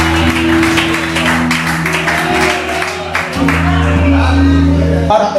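A church congregation claps and shouts in praise over sustained keyboard chords, the applause rising in loud bursts and lingering under the music, with a voice speaking through it.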